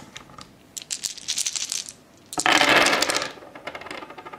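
A handful of dice for the board game Target Earth rattle and clatter in short bursts, then land in a louder tumbling roll onto the playing surface, close and without speech.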